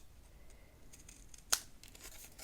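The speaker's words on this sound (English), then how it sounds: "And then I'm going to trim the 4 corners." Scissors snip the corners of paper pages for a small handmade album, one sharp close cut standing out against a quiet room background.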